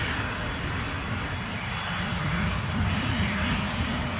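Loganair aircraft passing overhead near Newcastle airport under an overcast sky, a steady broadband engine roar that holds at an even level throughout with no talk.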